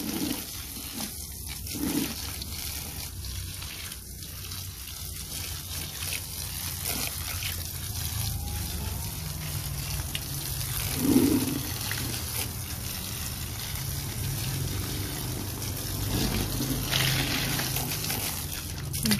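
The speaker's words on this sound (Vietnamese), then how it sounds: "Mỗi ngày tưới mình đều cho nước vô ha." Water pours and trickles steadily into a styrofoam box planter on a rooftop while bottle gourd plants are watered, a continuous close splashing flow with a brief louder gush partway through.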